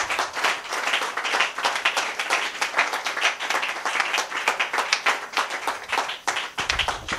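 Steady, dense applause from a church congregation, continuous clapping that fills the whole stretch.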